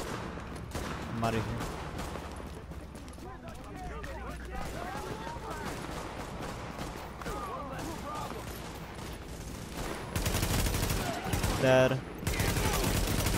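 Bursts of gunfire from Tom Clancy's The Division crackle in the background while someone talks over them, with louder rapid volleys erupting near the end.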